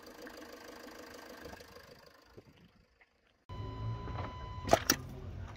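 The engine of a Jaguar XF Sportbrake catches after a quiet pause and settles into a steady close idle hum, with a couple of sharp clicks just after the start.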